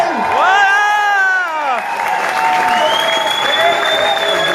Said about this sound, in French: je vous invite à applaudir chaleureusement nos deux nouveaux mariés